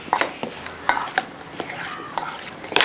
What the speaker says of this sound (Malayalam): ഇനി ഇതെല്ലാം ഒന്ന് ഇളക്കി വെക്കും